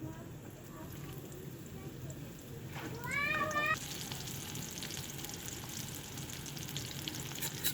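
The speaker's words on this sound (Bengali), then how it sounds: "আমি এখন পেঁয়াজগুলো দিয়ে দেবো।" Onions frying in a pan, a steady soft sizzle under a voice speaking Bengali, with a short bright chirping tone partway through and the hiss rising slightly after.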